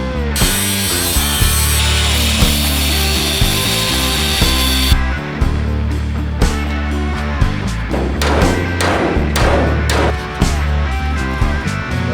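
A power tool cuts through the top of a 1948 GMC running board, with a loud, steady high whine for several seconds, then choppy grinding and scraping bursts of metal as the cut continues, close by.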